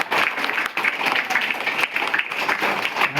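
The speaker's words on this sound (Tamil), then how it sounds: "அவங்களுக்கும் ஒரு கைத்தட்டி." An audience at a gathering applauds visiting relatives and guests, dense steady clapping filling the room without pause.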